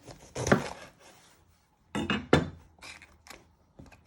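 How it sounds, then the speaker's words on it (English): A knife chops the top off a pepper: a handful of sharp, close thunks in bursts, separated by quiet pauses. "You first want to chop off your lid."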